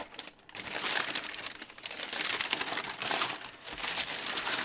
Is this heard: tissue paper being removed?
yes